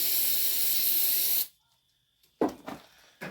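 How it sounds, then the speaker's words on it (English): Electronic contact cleaner sprays from an aerosol can onto a 6-volt alternator setup, one loud, steady, close hiss lasting about a second and a half, followed by silence and then faint handling noises. "At least I'm going to spray a little bit of electronic cleaner on this."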